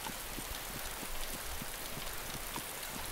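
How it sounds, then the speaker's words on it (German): Steady rain falls in the video game DayZ, a dense, even hiss with scattered droplet patter, continuous and fairly loud throughout. "Jetzt regnet's wieder."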